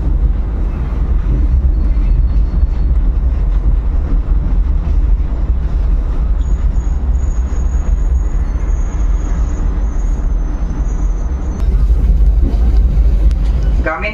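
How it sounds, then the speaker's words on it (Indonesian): Pangrango economy train pulling into Cigombong station in Bogor, West Java: a steady, loud rumble of the train with continuous low mechanical noise throughout, a brief high squeal partway through, and a slight rise near the end. "Tepat pada waktunya pukul 9:05, kereta api Pangrango tiba di stasiun Cigombong"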